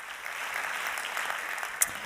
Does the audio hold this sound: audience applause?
yes